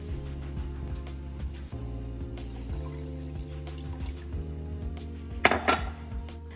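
Two cups of water poured into a cooking pot for super grains, faint and brief amid quiet clattering of dishes and cutlery over steady kitchen hum, with no talking.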